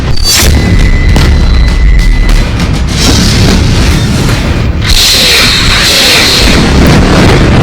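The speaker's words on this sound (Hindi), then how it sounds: "आप देखिए ये इस वक्त जो है फायरिंग जो है वो यहाँ पर हो रही है।" Gunfire and explosions in a war zone, heavy deep booms and rumbling blasts filling a loud, continuous stretch of about eight seconds with no clear talking.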